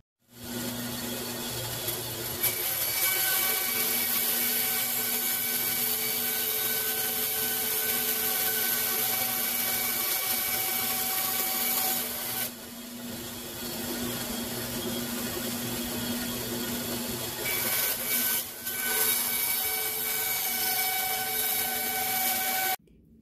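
Pieces of material are cut for a hard pool cue tip, a steady whirring, grinding cutting noise that runs continuously with two short pauses near the middle and later on.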